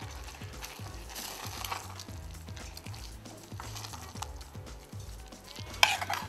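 Butter and parmesan get worked into risotto with a utensil scraping the pan in a steady repeated rhythm, soft and close, with a faint sizzle beneath and a brief clink near the end.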